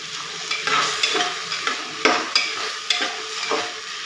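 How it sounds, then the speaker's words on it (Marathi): A spoon stirs dal khichdi of rice, toor dal and moong dal in a pot, giving repeated close scraping and wet sloshing strokes in a steady rhythm, with a faint sizzle underneath. "हे आपण व्यवस्थित ढवळून घेऊया"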